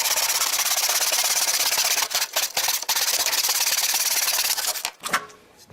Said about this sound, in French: Pas besoin de peser fort, simplement de garder un rythme qui est continu et la scie va faire le travail tout seul.